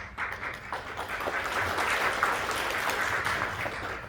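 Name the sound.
applause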